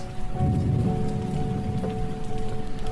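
Steady rain falling on a city street, a dense even hiss with scattered droplet patter throughout, no voices.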